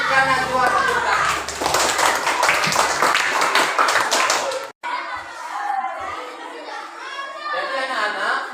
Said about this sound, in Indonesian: Berikan Najwa tepuk tangan